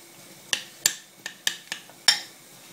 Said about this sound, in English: hold the bowl and stir with the spoon like this